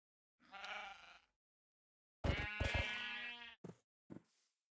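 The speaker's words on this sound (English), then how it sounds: "Ooh, sheep." Sheep bleat in the video game Minecraft, three separate calls: one drawn-out bleat, then a longer wavering one, then two short clipped bleats, clear and close against silence.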